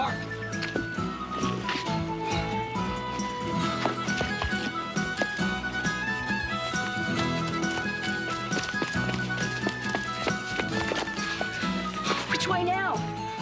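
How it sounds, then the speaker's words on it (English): Horse hooves clopping through a scene in a 1992 Australian film, buried under continuous music with voices shouting. "I'll get the horse."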